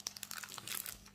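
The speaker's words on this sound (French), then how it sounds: "Je décolle comme ça." Diamond painting sticker sheets are peeled off by hand, giving a brief, close, crackly crinkling with a few sharp snaps and no talk.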